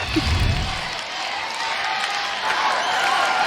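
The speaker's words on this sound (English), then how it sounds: "crowd is going wild right now" A crowd at a UCLA–Utah college gymnastics meet cheers and applauds loudly, a broad roar that swells at the start, eases briefly, then builds again toward the end.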